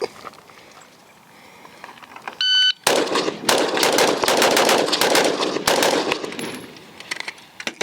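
Rapid strings of loud gunfire from a PSA JAKL 13.7-inch rifle on a shooting range, a timer beep sounding first, then about a dozen close, sharp reports in quick bursts over several seconds.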